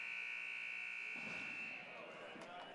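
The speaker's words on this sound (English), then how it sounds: "And there sounds the buzzer, and that means we will get our opening face-off." A sustained electronic buzzer drones at a lacrosse game just before the opening face-off, steady and fairly loud before fading into crowd and arena noise partway through.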